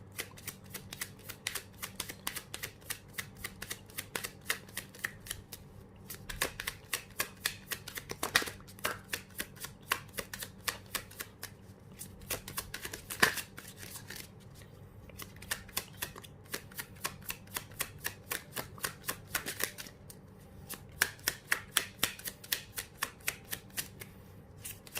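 Tarot cards are shuffled continuously, producing rapid rhythmic riffling bursts that repeat in quick runs with brief pauses, close and clear with no talk.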